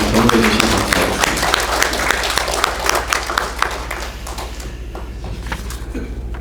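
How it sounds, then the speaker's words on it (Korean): A church congregation at a Sunday worship service in a New York Presbyterian church applauds in welcome, a dense, steady round of clapping from many hands that thins and fades toward the end, with a low hum underneath. "우리 환영과 축복의 박수로 격려해 주시면 감사하겠습니다."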